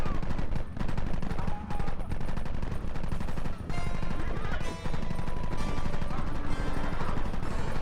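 Dense, continuous gunfire from the Red Dead Redemption game, with rapid overlapping shots crackling close and loud throughout and almost no pauses.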